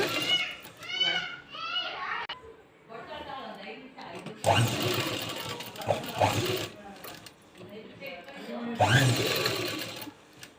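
An electric sewing machine stitches fabric for a boat-neck blouse back, running in short whirring bursts with pauses, while someone talks over and between the runs.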